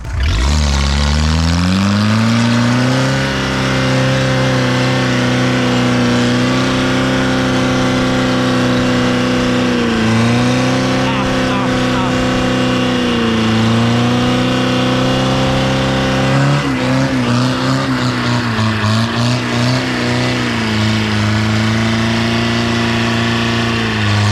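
A Honda TRX 500 quad engine is loud and close, revving and holding high, with pitch rising and dipping through repeated throttle changes and a strained climb near the end, among forest logs.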